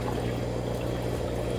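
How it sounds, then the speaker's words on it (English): Water pours steadily from a 10-quart, roughly 2-gallon bucket onto garden plants, a continuous splashing gush that stays even and close for the whole moment, with no talking. "we're going to just use this 10-quart, basically 2-gallon bucket to go ahead and water"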